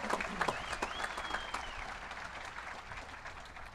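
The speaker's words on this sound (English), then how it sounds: "please give them another round of applause" Crowd applause ripples through the Sebastian River High School Class of 2023 graduation ceremony, with scattered claps and a whistle or cheer early on, then settles into a steady, softer clapping.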